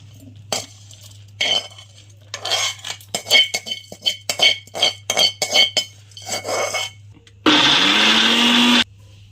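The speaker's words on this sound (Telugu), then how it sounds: "కొంచెం చింతపండు, 10 వెల్లుల్లి రెబ్బలు, వేయించిన పోపుని మిక్సీలో వేసేసుకోండి." A mixer grinder blends tamarind, garlic cloves and fried tempering for coconut chutney. Scattered clinks of utensils come first, then a loud, steady whirring run of about a second and a half near the end.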